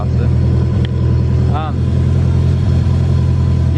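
A Subaru WRX GC8 on its first drive, its engine giving a loud, steady low drone heard from inside the car while people talk over it.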